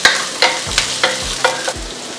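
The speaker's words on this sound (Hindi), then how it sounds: "सब चीज़ों को डाल के थोड़ी सौते करके इसका पेस्ट बनाना है मुझे" Cloves, cumin and garam masala sautéing in a pan, a loud close sizzle with a spoon scraping and stirring in several distinct strokes about half a second apart.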